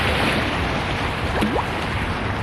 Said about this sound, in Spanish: Mira qué olas.